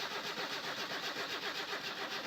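A Satsuma car engine in a video game turns over and runs with a fast, even chugging pulse, steady and moderately loud throughout.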